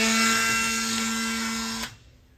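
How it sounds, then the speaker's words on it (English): A handheld Dremel rotary tool whines steadily at high speed while cleaning the ignition points of a barn-find Austin-Healey Sprite, running loud and close for nearly two seconds before cutting off abruptly. "Now I'll take my Dremel tool and get what I can with that."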